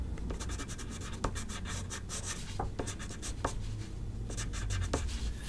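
A green pencil crayon scratches and rubs across paper while shading a drawing, close and quiet, with soft continuous strokes broken by a few sharper ticks.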